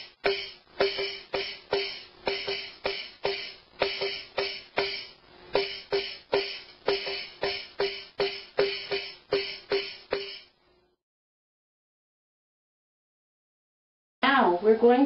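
Rhythm of the Muffin Man nursery song played as about thirty evenly spaced, sharp percussive taps with no singing, steady and close for ten seconds, then silence before a voice begins speaking at the end.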